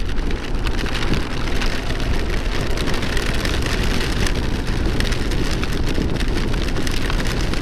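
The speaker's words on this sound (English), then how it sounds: "No, we can't just keep driving in the rain." Steady, dense rain drumming on the roof and windshield of a car being driven home in a downpour, continuous and loud throughout with a low road rumble beneath, no voices.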